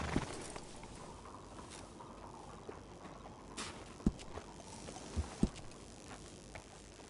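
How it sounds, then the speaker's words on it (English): A horse in the Red Dead Redemption 2 video game walks along, its hooves giving soft, irregular clip-clops with a few sharper knocks over a quiet outdoor ambience. "Nothing better than a well-groomed horse."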